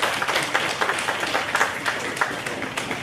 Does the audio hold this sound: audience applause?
yes